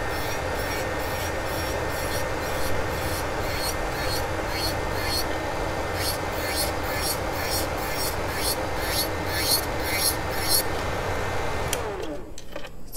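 Nail drill by Aizumi grinding gel nail polish, a steady high whine with rapid rhythmic pulsing strokes over a constant background hum from a dust collector. It runs continuously, then cuts off near the end.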